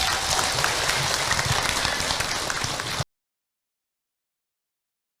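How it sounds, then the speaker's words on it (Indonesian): Applause for a woman at an Indonesian religious gathering, dense and steady for about three seconds, then cut to silence. "Tepuk tangan buat ibu."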